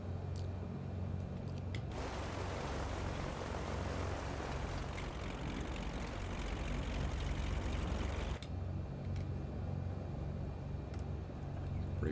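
A light aircraft with a G1000 NXi cockpit taxis in Microsoft Flight Simulator 2020 at KSWF, a steady engine drone that swells to a louder roar for several seconds before settling back, with no talk.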